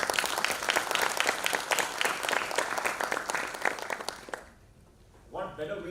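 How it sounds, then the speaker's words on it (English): An audience at the Samvaad 2024 panel opening breaks into dense, lively applause that holds for about four seconds, then fades to near silence before a voice begins speaking. "Give yourself a huge round of applause for making this possible."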